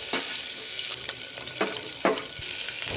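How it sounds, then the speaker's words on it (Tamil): Onions sizzling and frying in hot oil with spices for coconut milk biryani, a steady close crackling hiss with a few brief stirring bursts. "அதுக்கப்புறம் வெங்காயத்தை ஆட் பண்ணிக்கோங்க."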